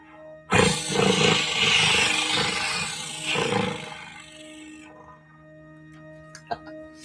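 A flute played with flutter tonguing imitates a tiger's growling roar in one sustained raspy burst of about four seconds, fading out and followed by a few faint clicks near the end.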